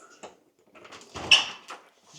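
A dirty, worn screen door rattles and slides close by, with a few scraping knocks and a louder clatter midway, and no talking.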